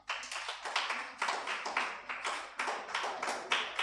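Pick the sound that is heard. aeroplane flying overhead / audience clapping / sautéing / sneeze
audience clapping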